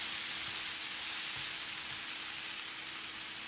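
A dosa sizzles on a hot pan after being flipped and lightly pressed, giving a steady, close, hissing fry with faint crackles and no talk.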